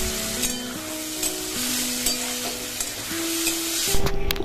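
Elephant-foot yam stalks frying with spices, a dense continuous sizzle close by with light stirring scrapes, faint steady tones running underneath.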